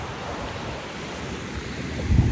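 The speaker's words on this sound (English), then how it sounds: "We're at the beach." Ocean waves wash steadily onto a beach on a sunny day, with wind buffeting the microphone and a heavier surge swelling near the end; no one speaks.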